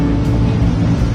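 A loud, steady low engine drone with a churning rumble from an amphibious duck boat with its propeller engaged, constant throughout with no voices.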